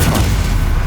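A Stupefy spell cast in the Hogwarts Legacy video game, a loud, heavy booming magical blast that fills the whole short moment with rumbling low-end force and no talk over it.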